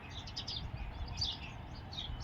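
Sparrows chirping in short quick bursts outdoors near cattle, faint and somewhat distant over a low rumbling background.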